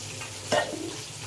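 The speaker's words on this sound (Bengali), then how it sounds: "এখানে এই যে মাছ ভাজা করতে দিয়েছি" Fish fries in a pan in a home kitchen, a soft, continuous sizzle with a single brief scrape or clink near the middle.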